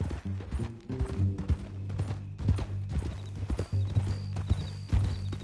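Horse hooves clip-clopping in a steady walking rhythm in the video game Red Dead Redemption 2, close and clear, with a low droning tone underneath.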